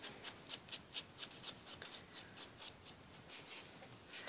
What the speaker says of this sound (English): sponge the edges of that just a little bit, just to make it pop a little bit